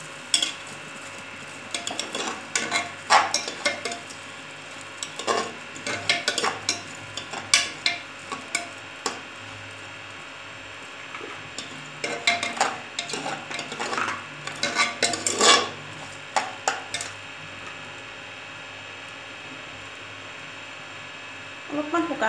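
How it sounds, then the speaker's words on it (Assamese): Moong dal dry-roasting in a hot pressure cooker is stirred with a utensil, giving irregular scraping and light clinks over a faint steady background hiss. "অলপ শুকানে শুকানে ভাজি লৈছোঁ।"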